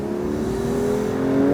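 A club sport car engine holds a steady, rising rev close by, a smooth continuous whir that climbs slightly in pitch, heard alone.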